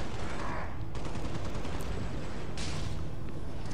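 An assault rifle fires in Halo: Spartan Strike, with a dense, continuous crackle of gunfire and heavy noisy bursts spread across the whole stretch.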